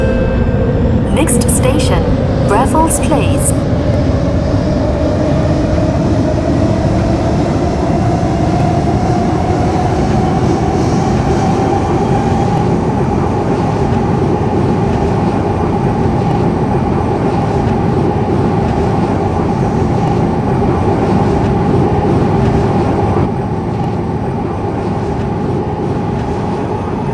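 A C151B metro train running in the OpenBVE train simulator, a loud steady rumble of wheels and motor with a rising whine as it picks up speed, a few brief chimes near the start, continuous throughout.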